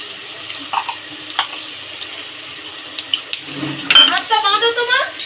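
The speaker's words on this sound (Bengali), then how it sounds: "বাটির মশলা দেওয়া জলটাও মশলার উপর দিয়ে দেবো।" Spice-infused water from a bowl is poured over masala frying in a pan for a Bengali katla fish curry, a brief pouring and sizzling burst near the end after quieter kitchen clatter, with a voice talking intermittently.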